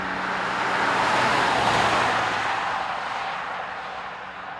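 A 2013 Nissan Pathfinder unibody crossover drives on the road, with a steady low engine drone and tire rumble from inside the cabin that swells slightly and then eases.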